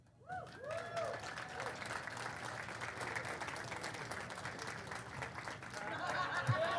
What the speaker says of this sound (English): I did not expect that to get the bigger cheer